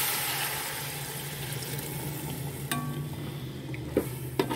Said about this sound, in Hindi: 3 गिलास पानी शामिल कर रही हूँ इसके अंदर